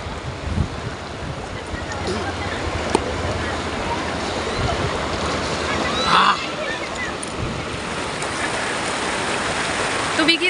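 Cold mountain river water rushes steadily at Upper Dudhia, a broad, continuous roar that stays close and fairly loud for the whole stretch, with small splashes now and then.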